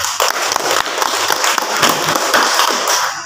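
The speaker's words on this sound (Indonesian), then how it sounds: "Dia tepuk tangan dulu." Villagers at a village cooperative meeting clapping their hands together, a dense, fairly loud patter of many claps close by, continuing steadily for a few seconds with no talk over it.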